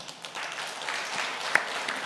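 A congregation claps during an anniversary thanksgiving church service, moderate scattered applause at middling distance, fairly soft overall, with one sharper clap standing out.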